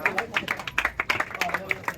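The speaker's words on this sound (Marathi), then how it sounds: "एकदा जोरदार टाळ्या आपण देऊया" A crowd at a Congress party political rally claps in a quick, uneven patter, individual claps standing out close by, fairly soft, with no speech over it.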